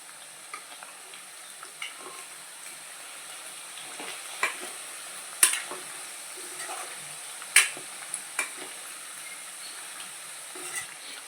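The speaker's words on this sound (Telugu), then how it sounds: "లైట్ కోటింగ్ వచ్చే విధంగా వేపుకోండి." Mutton pieces frying in oil for pickle, a soft steady sizzle with scattered light stirring clicks and a couple of sharper scrapes, quiet and close, no voices.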